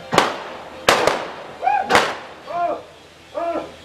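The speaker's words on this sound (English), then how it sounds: "Stop shooting at me, Sheriff!" Gunshots in a western sheriff standoff: three sharp, loud bangs spaced about a second apart, followed by whining, ricochet-like tones.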